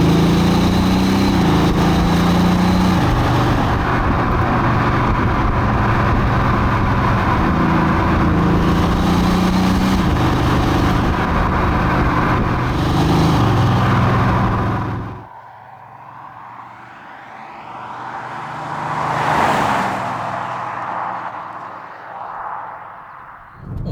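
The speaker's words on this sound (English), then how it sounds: "let's engage dynamic mode, which will dial up everything in the car to its max, turn the gearbox to manual" Audi S6 diesel executive saloon driven hard in dynamic mode with manual gear selection on a British B road, a loud sustained engine roar rising and falling through gears, then a sudden drop to quieter rushing and a passing swell.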